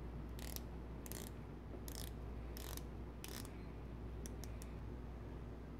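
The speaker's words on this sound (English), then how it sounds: "It's a little easier to turn, and it doesn't sound as hollow as the previous iteration of the Omega Seamaster as well." Omega Seamaster diver's watch with a scalloped bezel being turned, a series of faint, crisp ratcheting clicks in short bursts, some evenly spaced and a few quick ones close together near the end.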